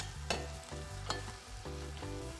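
Steady sizzling of onions frying in a pot for lamb stew, with a few sharp clinks of a utensil stirring against the metal.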